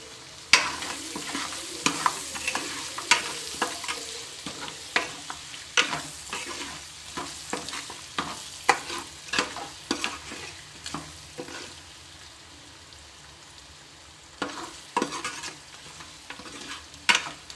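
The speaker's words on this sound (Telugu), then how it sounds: "ఇవి కొంచెం ఆయిల్లో మగ్గిన తర్వాత మనము కారం వేసేసుకుంటాం." Ingredients sizzling in oil in a pan for blood curry, with a steady frying hiss under repeated close scraping and clinking of a stirring spoon, and no talk.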